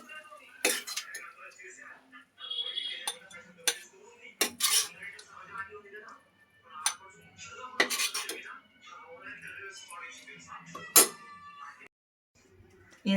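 A spoon clinks and scrapes against a bowl while gongura dried prawn curry is served, with scattered, irregular metallic taps and knocks close by in a quiet kitchen.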